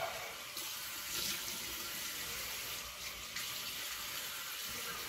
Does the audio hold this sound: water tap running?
yes